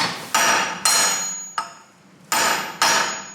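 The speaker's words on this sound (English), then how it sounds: "After a good amount of tapping, the drive shaft came out." Hammer tapping a drive shaft out of the rear wheel hub of a BMW E90 318d: six sharp metallic strikes at uneven intervals, each ringing briefly before fading, close and loud with no voices.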